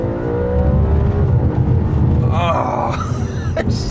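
An Audi RS4 B8 with its V8 engine revs hard, a loud close rumbling roar that climbs in pitch near the end, with no talking over it.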